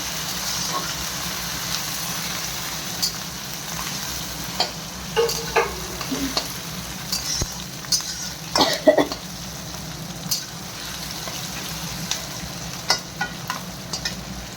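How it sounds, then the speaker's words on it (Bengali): Onion, tomato and green chillies frying in a pan for chow mein, a low steady sizzle punctuated by scattered spatula scrapes and clinks, with a cough or throat clearing near the middle. "এগুলো ভালো করে ভাজা করে নিই।"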